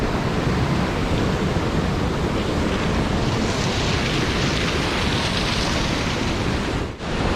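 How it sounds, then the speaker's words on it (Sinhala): Bomuru waterfall, part of a chain of sixteen falls, pours down in a loud, constant, broad rushing roar close by. The sound briefly dips near the end, and no one speaks. "මේ වැටෙන්නේ බෝමුරු ඇල්ල."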